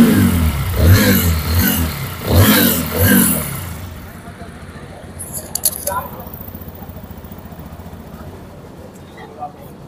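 After an oil change with Castrol engine flush, a TVS motorcycle engine gives a few loud, throaty revs, then settles to a faint idle with occasional small knocks, while a person talks nearby.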